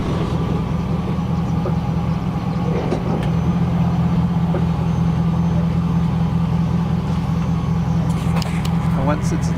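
A pickup truck idles low and steady as it creeps slowly backward to load a truck camper, its engine a continuous near rumble with faint voices in the background.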